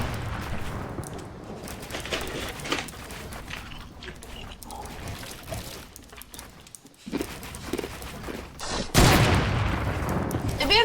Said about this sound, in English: Why is he just spamming his rifle?